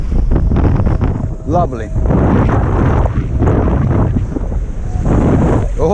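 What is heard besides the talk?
waves and wind around a small boat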